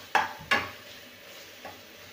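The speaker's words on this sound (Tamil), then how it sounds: "தக்காளியோடு சேர்த்து நல்லா வதக்கலாம்." Tomatoes being sautéed in a pan for soya chunk biryani: two sharp scraping stirs close together, a faint later scrape, over a soft steady background sizzle.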